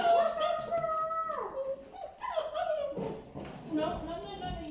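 Puppies from a litter at about six weeks old whimper, whine and yip near a kennel they can't get into, giving high, wavering cries close by with short breaks between them.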